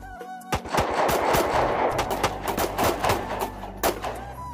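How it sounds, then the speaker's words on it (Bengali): A gunfire sound effect in a dramatized audio story: a loud, rapid string of sharp shots rattles off like machine-gun bursts over a rumbling background, with no voices. "আরো গুলির শব্দ, এবার আরো বেশি।"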